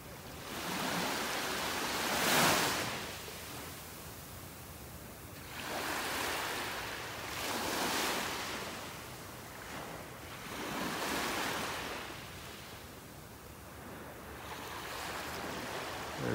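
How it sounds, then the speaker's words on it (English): Small ocean waves break offshore along a beach in North Naples, Florida, a faint distant surf that swells and fades in slow surges every few seconds over a soft wind hiss. "those little waves breaking out there"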